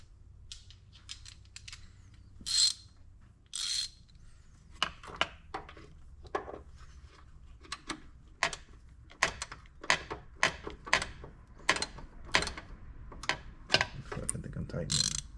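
Ratchet working rusty bolts on a Mitsubishi Lancer Evo 8, a close series of sharp metallic clicks in quick bursts, growing denser and more rhythmic toward the end, with a few louder scrapes early on.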